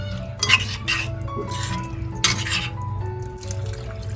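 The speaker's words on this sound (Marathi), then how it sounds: "त्याच्यामध्ये पाणी घालून घेतोय व्यवस्थित सर्व मिक्स करून घ्यायचंय" Water is poured and stirred into a salted surmai fish curry with kokum in a metal pot, heard as close drips and splashes with clinks of a spoon against the vessel, growing busier in short bursts.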